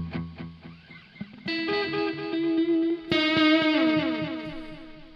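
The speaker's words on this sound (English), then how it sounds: "So let's add some studio delay." Tube amp recorded through a Two Notes Genome with studio delay added, played as guitar notes and sustained chords whose repeats trail behind each strike, distorted and steady, with no voices.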